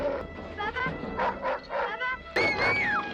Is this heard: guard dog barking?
yes